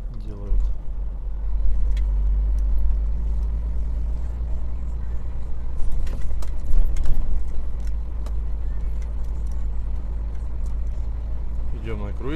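A Mitsubishi Mirage rolls along at 15 km/h on cruise control, giving a steady low engine and road rumble from inside the car, with a few faint clicks and knocks.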